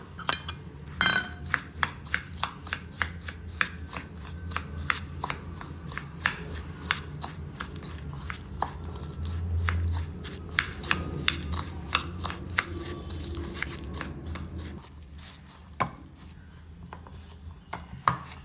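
Lotus Biscoff biscuits crushed and mixed with unsalted butter by hand, a run of close, dry crunching and scraping taps repeating irregularly throughout, with no talking.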